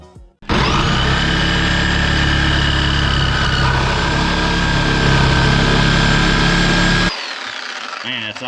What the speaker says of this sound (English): that Sawzall really does saw all, doesn't it? Cut through anything.